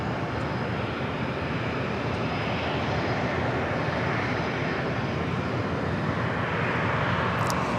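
Pilatus PC-24 business jet arriving at San Diego airport, a steady, loud engine roar and broadband rush filling the whole stretch with no talk.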